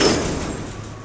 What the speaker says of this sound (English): This is officially the loudest Peelle door on the face of the earth.